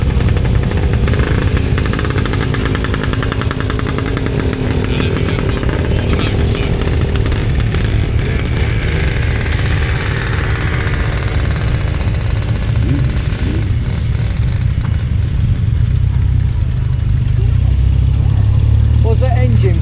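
Motorcycles run around a show arena at a stationary engine rally, their engines rumbling and revving continuously and loudly, with people talking over the noise.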